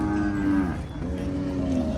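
Charolais cattle low at a rural cattle market, with a long, deep moo close by followed by a second drawn-out moo, over a background of livestock noise.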